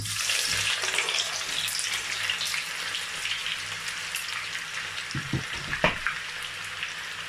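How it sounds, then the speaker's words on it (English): Chopped onions hitting hot oil for Nigerian jollof rice sauce, a loud, steady crackling sizzle up close, with a couple of soft knocks near the end and no voices. "So I'm going to add the chopped onions."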